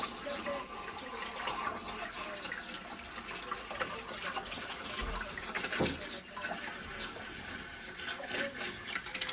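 Water pours from a bottle into an aquarium during setup, a steady continuous splashing and trickling that runs close and fairly loud throughout, with no talk.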